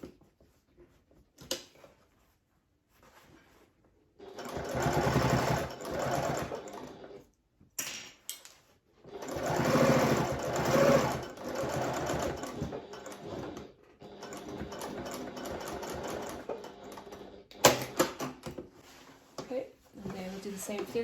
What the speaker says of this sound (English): So I'm sewing this with about a 1 centimetre seam allowance.